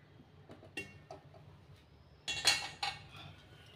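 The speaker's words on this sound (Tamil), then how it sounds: "மூடி வச்சிடலாம்." A metal lid is set over an appam pan on medium flame, giving a few light clinks and a louder scraping clatter as it settles, quiet and close with no talk.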